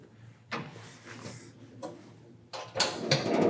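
A metal table latch on a meat bandsaw is released and the table swings open, giving several short clicks and clunks over about three seconds, with a louder, fuller clatter at the end.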